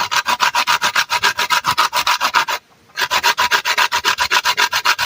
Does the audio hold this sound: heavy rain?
no